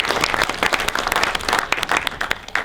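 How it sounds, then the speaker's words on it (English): An audience at a photography lighting workshop in a film studio claps for a model called up to the front. The applause is loose and uneven, with distinct individual claps close by over nearly three seconds. "Let's give a round of applause to our beautiful model."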